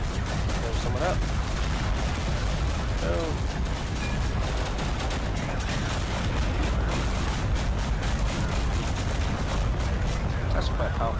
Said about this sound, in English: That's quite a powerful cannon.